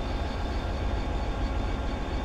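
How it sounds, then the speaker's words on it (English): A train in Train Simulator 2017 on the Settle to Carlisle line slowing toward a stop, with a loud, steady low rumble of the engine and rolling wheels, alone and without voices. "So slowly bringing our speed down for us to come to a complete and utter halt."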